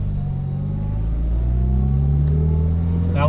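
A car pulls steadily through its gears on a fuel economy test drive, the engine note climbing in a smooth, continuous rising drone, close and loud without talk.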